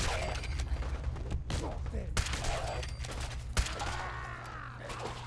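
Gunfire rattles in Fallout 4's Nuka World amusement park, with sharp bursts and rapid volleys popping over a low background hum, some shots close and some farther off.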